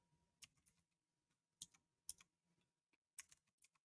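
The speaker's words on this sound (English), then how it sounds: "I'm still trying to get used to this keyboard." Keys clatter on a computer keyboard in short, irregular bursts of crisp clicks with quiet gaps between them, close and fairly faint in an otherwise silent room.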